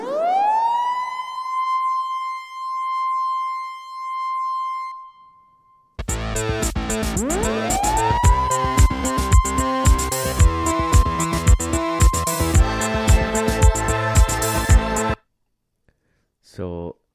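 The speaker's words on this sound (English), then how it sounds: "The oscillator sine is the one that I used" Sine oscillator synthesizer tone, a pure tone gliding upward into a sustained wailing pitch, then repeated under a busy drum-machine pattern before stopping abruptly.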